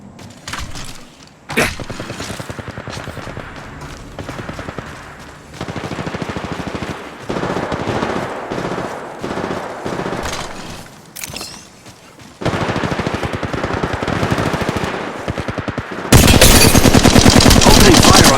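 Automatic gunfire in the mobile battle royale game Apex Legends Mobile, loud sustained bursts of rapid shots with brief gaps between, ending in an especially loud close burst.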